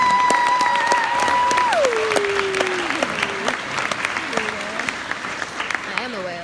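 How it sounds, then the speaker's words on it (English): Dense audience applause for teachers at a spring chorus concert, loud at first and gradually thinning into scattered claps, with a sustained tone gliding downward and a voice near the end. "I think we should give them another round of applause"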